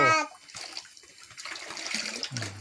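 Molasses poured out for an EM fermentation mix meant to boost plant stems, a thick liquid running and splashing in a steady stream at close range, with a brief voice at the start and a short pause midway.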